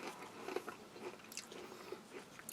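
A crunchy chocolate-streaked biscuit from a French army commando ration is bitten and chewed, with faint close crisp crunches repeating over a couple of seconds.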